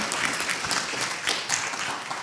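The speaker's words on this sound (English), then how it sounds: "So Olivia, Jeff, Ty, let's give them a big round of applause." Audience applause honoring the organizers of a ladies' round table event, a short stretch of steady clapping from a gathered crowd, moderately quiet and even throughout.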